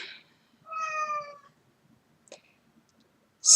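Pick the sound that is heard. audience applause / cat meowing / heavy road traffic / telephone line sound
cat meowing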